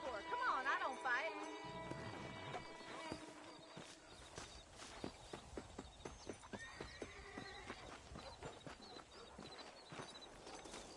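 A horse in the Red Dead Redemption video game whinnies, then its hooves clip-clop in a steady walking rhythm, close and clear, with faint game sounds behind.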